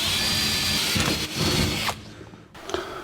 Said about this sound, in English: We'll drill some 5/16 inch holes for our bolts.